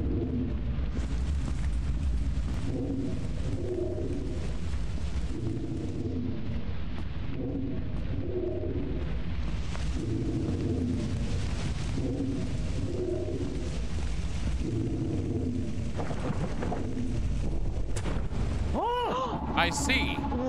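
A giant worm attacks a player in the video game Lethal Company, heard as a steady low rumbling roar under the game's ambience, with a brief rising tone near the end.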